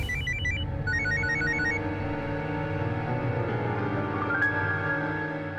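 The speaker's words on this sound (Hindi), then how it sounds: "अचानक उसका फोन आया था।" A phone ringtone chirps in short melodic patterns for a couple of seconds over a steady low hum, then falls silent.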